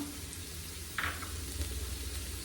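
Green chillies sizzle in a pan of frying vegetables for a green peas ularthu, a soft, faint crackle and hiss with a brief brighter spurt partway through, with no voices.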